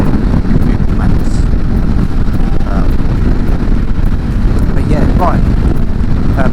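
Heavy headwind buffets the microphone while riding a Triumph Scrambler 400X motorcycle, a loud, constant low roar with the engine buried underneath and brief faint voice fragments.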